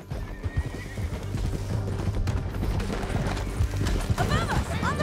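Horses whinny and hooves clip-clop at a gallop amid a busy, dense Red Dead Redemption 2 soundscape with distant gunfire and shouting.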